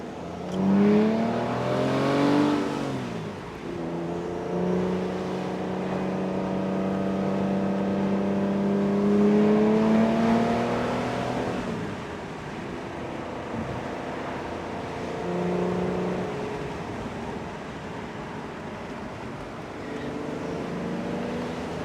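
A 2006 Aston Martin DB9 Volante with a V12 engine drives twisty roads, its engine note rising and falling through repeated revving pulls and gear changes before easing into a steadier cruise, heard from inside the car.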